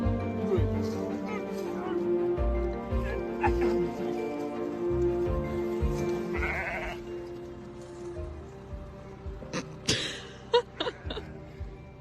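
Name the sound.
sheep bleating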